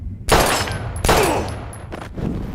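Two loud, close gunshots in the Life Is Strange video game, each a sharp blast with a long ringing tail, followed by softer thuds.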